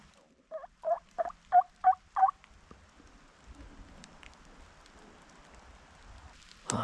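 A wild turkey gobbles in a quick rapid series of six calls at moderate distance, then light patter of rain and quiet outdoor ambience in spring.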